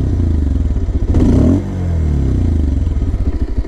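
A Bajaj Pulsar 220F motorcycle on a modified exhaust, loud and close, idling with a deep, lumpy pulsing beat, blipped once into a short rising rev that falls back to the throbbing idle.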